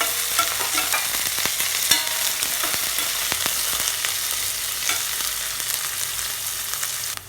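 Cut tapioca is stirred in a hot pan for a Kerala tapioca upma, with a steady frying sizzle and repeated scraping and tapping of a spoon against the pan.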